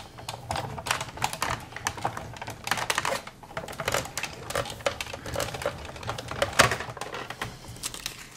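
Sizzlits Delicate Doilies die with cardstock between cutting plates cranked through a manual die-cutting machine, giving a dense run of close, crisp crunching and clicking bursts that continue steadily throughout with no talk.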